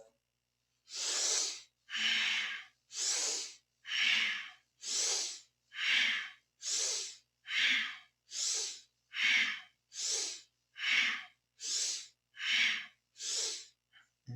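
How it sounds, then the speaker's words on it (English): Deep, powerful rhythmic breathing during a Kundalini yoga back exercise, about fourteen strong, close, breathy inhale-exhale pulses at an even pace of roughly one per second, with no talking. "So inhale forward, exhale back with a deep, powerful breath."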